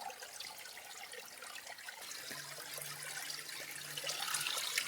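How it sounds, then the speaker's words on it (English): Water poured into a reservoir sack for a gravity-fed filter outdoors in the wilderness, a steady trickling splash that grows slightly louder and fuller over several seconds, with no talking. "You fill that sack with water and then you attach the filter to the bottom of it"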